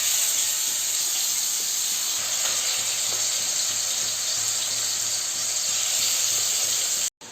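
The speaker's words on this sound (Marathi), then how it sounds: "आता इथे बघा आपलं चिकन फ्राय होतोय." Marinated chicken tikka pieces fry in hot oil for a biryani, giving a loud, steady sizzling hiss that runs unbroken and close up until it cuts off near the end.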